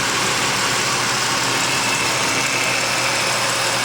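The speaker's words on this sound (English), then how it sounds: "I love what this engine sounds from when we bought it." A Sable car engine idles steadily with a constant low rumble and mechanical hum, close by and loud, with no talking.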